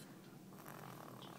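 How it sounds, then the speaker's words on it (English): A baby snoring softly, low, steady rasping breaths heard close and quiet, with no talk over it. "Listen to the baby snoring."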